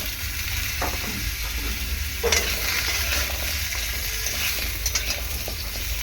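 Vegetables sautéed in a little oil and stirred in a pan, with close scraping strokes against the metal over a continuous low sizzle, and an occasional louder clack of the spoon.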